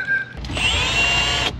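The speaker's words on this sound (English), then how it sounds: "I'm drilling some holes." A power drill bores a hole for a rivet during a truck camper build, spinning up and whining steadily for about a second before cutting off, loud and close.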